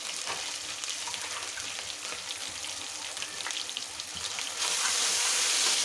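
Ginger paste hits hot oil for potato dal and sizzles and sputters continuously at close range, the crackling hiss growing louder and brighter near the end, with no talking.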